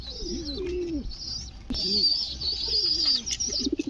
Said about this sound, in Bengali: এখানে নাকি অনেক সুন্দর সুন্দর কবুতর আছে।